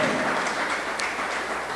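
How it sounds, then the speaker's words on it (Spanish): Steady clapping from a church congregation during a Spanish-language sermon, a dense, even wash of many hands that holds for the whole moment without letting up. "Dale un aplauso"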